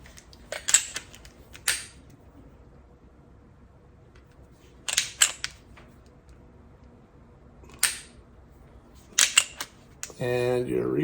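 Crisp trigger clicks from a Springfield XDM Elite Compact 10mm pistol, four separate dry-fire pulls spaced a few seconds apart, each a sharp close snap followed by a small reset click, with a voice coming in at the very end.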